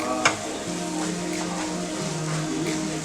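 Moong dal halwa sizzling in a pan as it is stirred and roasted, a steady close frying hiss with soft scraping of the spoon throughout, no voices.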